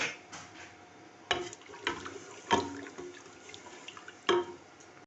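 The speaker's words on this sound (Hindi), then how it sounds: "अब इसमें जितना शोरबा रखना हो उतना पानी डाल दें।" Water poured into a cooking pot of fried pumpkin for shorba, heard as soft trickling and splashing with a few louder splashes and clinks, quiet and close, no speech.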